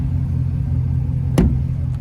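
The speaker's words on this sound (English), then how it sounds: "I love the sound of this active exhaust, especially with that rumble." The active exhaust of a 2024 GMC Sierra 1500 Denali Reserve pickup with a 6.2-litre V8 rumbles deep and steady at idle throughout, close and loud, with a brief sharp knock near the end.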